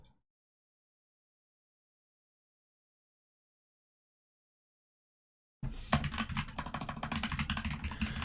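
Typing on a GatRed-switch computer keyboard begins after a long silence, a close, steady run of quick key clicks continuing to the end.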